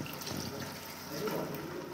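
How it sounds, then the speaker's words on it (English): Meat stock poured into a pot of thick afang soup, a steady liquid splash and trickle running for a couple of seconds at moderate level with no talking over it. "The soup is too thick, so I want to add the meat water."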